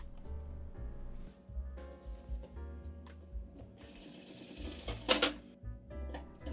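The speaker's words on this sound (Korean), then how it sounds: "저렇게 해서 양쪽을 박음질 해주시고" A sewing machine runs in short bursts, stitching down the pleats on both sides of a shirt panel, its low motor hum and needle patter starting and stopping repeatedly, with a brief sharper rattle near the end.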